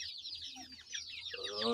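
Chickens from an Ayam Cemani and silkie cross cluck in a steady run of close, busy calls, with a sharper, louder call rising near the end.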